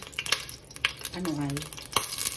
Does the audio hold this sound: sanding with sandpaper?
no